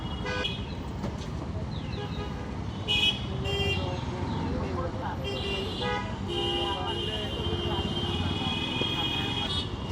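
Car horns toot repeatedly in a stalled traffic jam just before a main road, short honks rising over a constant dense roar of engines and street noise, with people talking in the background.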